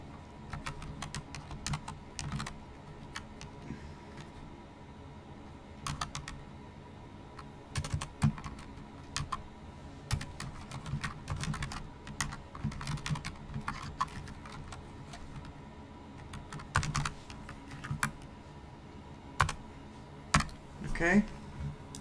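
Quick bursts of typing on a computer keyboard, close and fairly quiet, as code is entered in irregular clusters of clicks with pauses between them, and a person talks in between.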